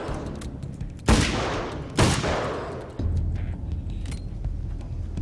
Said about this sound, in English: Hunting rifle is good for spiders!